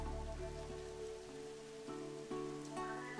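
Steady rain pattering on surfaces in the colony game RimWorld, a continuous hiss heard under layered ambient background music with no voices.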